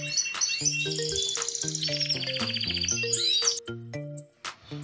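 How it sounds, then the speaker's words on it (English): A bird sings loudly from a tree, giving bright, rapid chirps and warbling trills that continue almost without a break, close and prominent, with a light tinkling texture toward the end. "A bird in the tree started to sing very loud."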